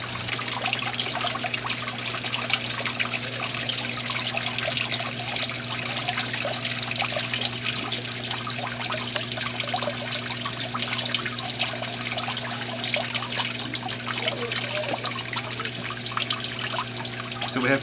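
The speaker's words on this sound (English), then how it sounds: "you can see the even flow of water going over the cone" Steady, even flow of water trickling and washing over the cone of a fine gold recovery bowl, a continuous close splashy rush with a low hum underneath.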